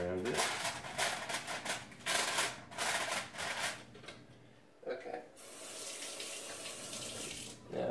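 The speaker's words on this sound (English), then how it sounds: "I just rinsed off the spoon." A stainless steel spoon is rinsed under a running kitchen tap. The water splashes and gushes nearby in uneven bursts, then settles into a steadier flow, with a person speaking over it.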